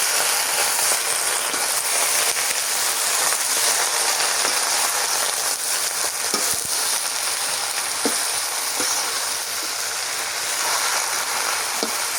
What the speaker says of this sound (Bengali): ভাজা হয়ে গেছে এই তেলের মধ্যে শাকগুলো দিয়ে দিই